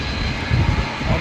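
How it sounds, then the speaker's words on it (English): A Boeing 787 Dreamliner doing a rejected takeoff on a wet runway, heard as a brief, loud, broad engine roar with rushing spray-like noise, steady and fairly close. "RTO from a Dreamliner"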